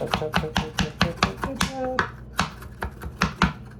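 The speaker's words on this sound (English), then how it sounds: "And then you just chop it some more if you want." Garlic being chopped with a knife on a board, a rapid run of sharp, close taps in uneven bursts, with a brief pause midway, while a voice talks over it.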